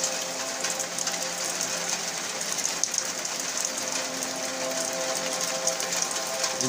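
Hail falls steadily outdoors, a dense continuous rattling patter with scattered sharper ticks, even in loudness throughout, with no voices.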